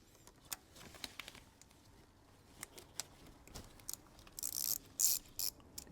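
A ratchet fitted with a T30 socket backs out a bolt on a 2014 VW Jetta engine, sparse clicks and light metallic ticks nearby, ending in a short burst of rapid ratcheting.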